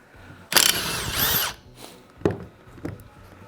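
Power drill spinning out 6mm Allen bolts from a Corbeau car seat, a short loud rising-and-falling whine up close followed by two brief fainter bursts, with no talking.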